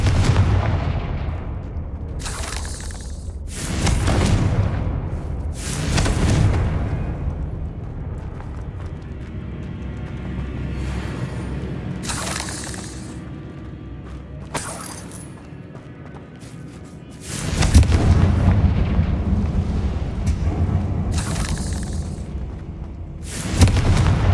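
Confringo fire spell explosions in the Hogwarts Legacy video game, heard as a series of heavy booming blasts with rumbling decay between them, loud and close, several hits spaced across the stretch.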